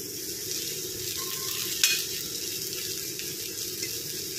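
Green chilli and garlic chutney sizzles in hot oil in a pan for cluster bean bhaji, a steady close hiss with a faint stir or clink partway through.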